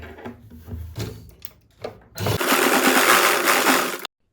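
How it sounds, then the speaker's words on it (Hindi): Sewing machine top-stitching a cloth belt for a straight salwar, heard after several soft handling knocks and rustles as a loud steady motor whir of nearly two seconds that stops abruptly. "इसके ऊपर एक सिलाई लगाएंगे टॉप स्टिच, ताकि ये पक्का हो जाए।"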